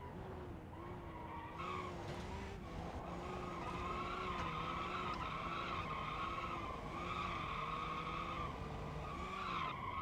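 Car tires skidding and squealing in BeamNG.drive as the car spins out in a city, a loud continuous screech with wavering tones and engine drone running steadily throughout.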